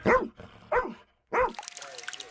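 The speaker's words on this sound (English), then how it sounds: "the team that trains this rescue dog, named Joy, to comb through the wreckage of Russian strikes looking for survivors" Rescue dog trained to search wreckage from Russian strikes for survivors gives three sharp, loud barks at close range, then a whining, dribbling sound follows.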